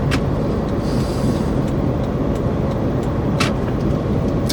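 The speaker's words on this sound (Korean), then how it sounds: "80km 가고 있다고 1차선을 타고서 쭉 주행을 하고 있지" A car cruises steadily in the first lane of an 80 km/h road, giving a loud, constant rumble of engine and road noise with faint ticking over it.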